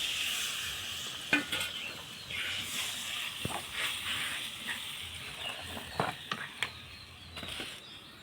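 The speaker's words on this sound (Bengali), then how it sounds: "হালকা আঁচে অনেকক্ষণ ধরে ভাজলে মশলা ভালো করে ভাজা হয়ে যায়।" Spice paste, moistened with water from a fish marinade, frying slowly in oil over low heat for a Bengali rohu fish curry with potatoes: a steady close sizzle with stirring scrapes and light clinks from the pan.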